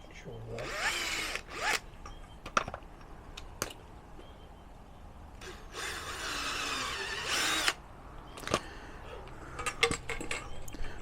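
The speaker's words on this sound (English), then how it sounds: "So we're going to drill all the way through." A power drill bores through an aluminium annexe pole in bursts, with two longer whirring runs and short clicks and handling knocks in between. The sound is close and moderately quiet.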